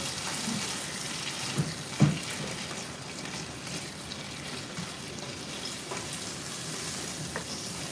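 Curry paste with sugar stir-frying in a pan for a Thai pork curry, a steady close sizzle with occasional scrapes and clinks of a utensil, no talking.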